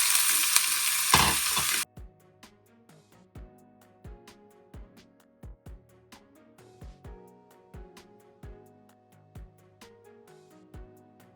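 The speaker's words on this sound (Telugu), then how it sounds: "ఆయిల్ హీట్ అవ్వగానే చక్కగా ఆనియన్ మిర్చి చేసేసుకుందాం" Chopped onions and green chillies dropped into hot oil in a home kitchen pan, a loud initial sizzle that gives way to quieter frying broken by regular clinks of a spoon stirring against the pan, no voices.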